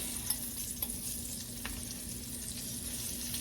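Onions for liver and onions drop into hot liver pan drippings and fry with a steady broadband sizzle, a few faint clicks of a utensil against the pan, no voices.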